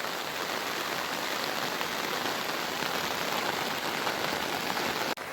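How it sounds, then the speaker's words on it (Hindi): Heavy rain falls continuously close by on a rooftop in a village, an even rushing patter that holds steady throughout. "छतरी लेके मैं बारिश एंजॉय कर रहा हूँ।"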